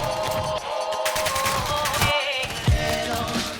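Rapid hip-fire gunshots in a first-person shooter game, dense bursts of automatic fire with sharp cracks overlapping game sounds, loud and near throughout.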